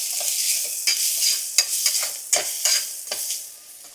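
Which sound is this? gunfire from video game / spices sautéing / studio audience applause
spices sautéing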